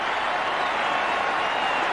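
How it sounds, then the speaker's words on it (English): An 18,000-strong stadium crowd at a 1984 Australia v Pakistan cricket match cheers and applauds Greg Chappell's record run in a steady, loud, unbroken roar of clapping and voices. "And Chappell smiles, but listen to the crowd."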